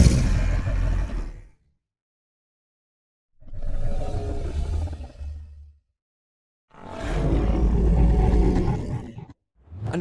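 Three long, deep, gravelly roars from a Torvosaurus emote in the Path of Titans dinosaur game mod, each a few seconds long and separated by silence, loud and close with no talking.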